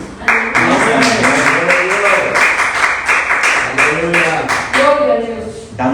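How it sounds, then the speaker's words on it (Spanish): A church congregation claps for the Lord during a service, a rhythmic run of hands with voices singing or calling out over it the whole time. "¿Me puede dar un aplauso al Señor todavía?"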